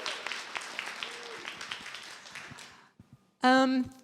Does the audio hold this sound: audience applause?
yes